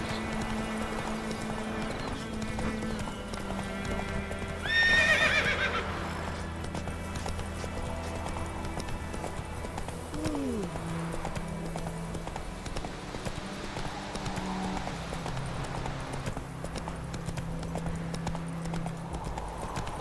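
A horse gallops in The Witcher 3, rapid rhythmic hoofbeats running continuously under game music, with a brief whinny partway through and a voice heard faintly.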